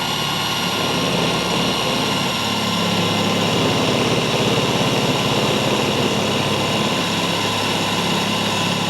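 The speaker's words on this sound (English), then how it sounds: "And drill our final hole." A loud, continuous whine of a power drill running steadily with a KnKut drill bit, boring a hole, with a high-pitched motor tone throughout and no voices.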